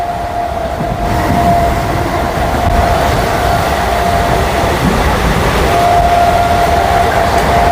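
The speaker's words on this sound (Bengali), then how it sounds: "আমাদের ট্রেন ক্রস করছে সোদপুর স্টেশন" Train rumbling through Sodepur station, heard from on board: steady loud rolling wheel and carriage noise with a sustained tonal whine, continuous throughout with no talk.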